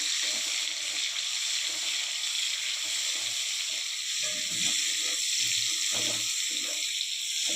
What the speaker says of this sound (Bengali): এবার পেঁয়াজটা দিয়ে দিলাম পেঁয়াজটা একটু ভাজা ভাজা হয়ে গেলে